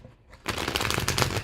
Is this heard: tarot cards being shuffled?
yes